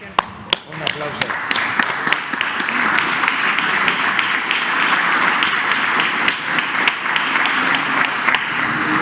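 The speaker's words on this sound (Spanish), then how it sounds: "Un aplauso." Sustained applause from a commission audience at a Mexican government event, dense and steady throughout with sharp individual claps standing out; some voices murmur underneath.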